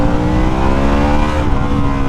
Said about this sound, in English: this is freaking stock exhaust, and it sounds good